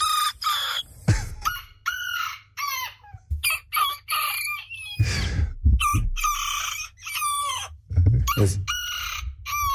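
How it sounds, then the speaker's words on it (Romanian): Recorded Bantam rooster crows play back several times in succession, high and thin cock-a-doodle-doos with clucks between them, while people speak over and between the calls. "Știi cum face cocoșul pitic?"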